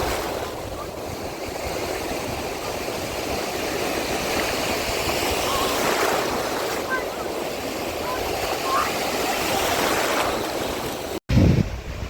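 Loud, continuous surf of Irish Sea waves washing and breaking nearby at Cahore Point, Ireland, with gusty wind buffeting the microphone throughout.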